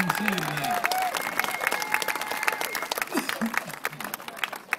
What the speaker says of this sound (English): Let's give Hub a great big round of applause for being our MC today.